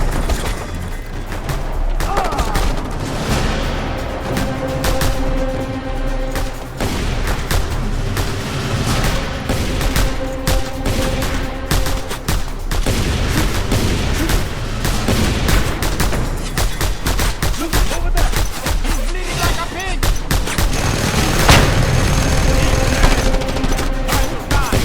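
Rapid mounted-gun fire rattles in continuous loud bursts, with booms and explosions mixed in, during a firefight in the video game Just Cause 2; some shouting is heard underneath.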